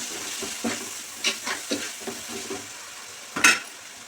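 Tomatoes with turmeric and salt cooking in a pan: a quiet sizzle broken by a few soft stirring scrapes and one louder utensil clank near the end.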